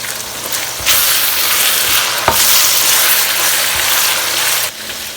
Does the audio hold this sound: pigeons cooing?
no